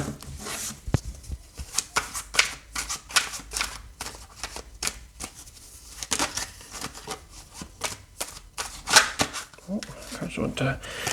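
Tarot cards are shuffled in quick, crisp riffling bursts of papery flicks and snaps, close to the mic, with a person talking over the shuffling.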